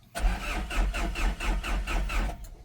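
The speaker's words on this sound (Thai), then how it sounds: "เครื่องยนต์ ดีเซล นะครับ เดี๋ยวสตาร์ทเครื่องให้ทันผู้ชมฟัง" Diesel engine of a used single-cab pickup truck cranking with a rhythmic starter chug for about two seconds, close and fairly loud, then catching as it starts.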